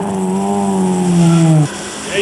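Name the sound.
Mobil 1 Subaru Impreza rally car exhaust note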